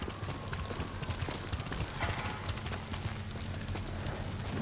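Horse hooves gallop at a steady, rapid clip-clop in the samurai video game Ghost of Tsushima, continuous and loud over a dense wash of ambient game noise.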